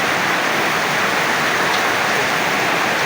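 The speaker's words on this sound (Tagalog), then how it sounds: "Sobrang malakas ang ulan." Heavy rain during a flood, heard from a tenth-floor home: a loud, dense, unbroken roar of downpour with no voices.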